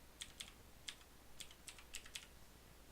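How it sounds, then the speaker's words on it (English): Light clicking keystrokes on a computer keyboard as a verification code is entered, a handful of separate taps in an irregular rhythm, quiet and close. "I think it's okay for me to type it in"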